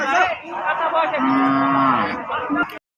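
A cow moos loudly and close by at a cattle market where dairy cows and calves are sold, one long sustained low call lasting over two seconds before cutting off sharply.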